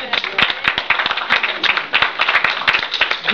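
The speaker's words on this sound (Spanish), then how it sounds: "Un aplauso para..." An audience breaks into steady, loud applause, many hands clapping densely and close by for the whole stretch.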